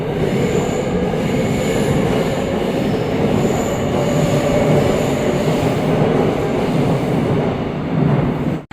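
A loud, steady rumble of a Seoul Line 2 subway train departing through a tunnel with faint wheel squeal, cutting off abruptly at the end.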